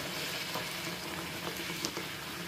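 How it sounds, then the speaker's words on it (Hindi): Bhature frying in well-heated oil, a steady close sizzle and bubbling hiss that runs throughout without pause, with a few faint pops rising above it. "जब आप भटूरे तलें तो तेल अच्छे से गर्म होना चाहिए"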